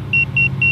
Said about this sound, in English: The drone is 15 feet away and you can hear it beeping.